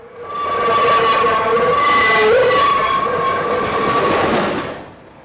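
A train rumbles past at close range on single track in the Feather River Canyon, steel wheels squealing in long, high-pitched tones before the noise fades away.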